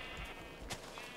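Sheep bleating in Minecraft, a single short bleat standing out over low game background sound, fairly quiet and with no talk.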